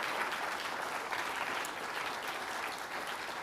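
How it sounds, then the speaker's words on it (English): Sustained applause from an audience at an evening panel event, fairly soft and even, continuing without a break and with no voices on top. "Can we have another round of applause for them, please?"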